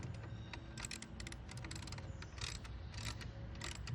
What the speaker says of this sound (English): we'll take our 7/16 socket or wrench or an adjustable, whatever you have, and we're just going to evenly tighten these down